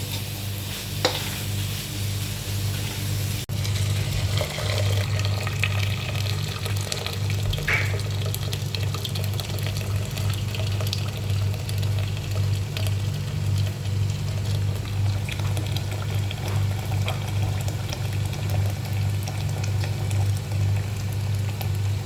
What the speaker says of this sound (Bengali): ভাতে গরম পানি ইউজ করছি।